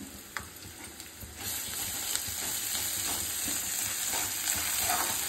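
Ginger garlic paste fries with pureed tomato in a pan, giving a soft continuous sizzle with light spoon taps and stirring scrapes near the start, fairly quiet and free of talk.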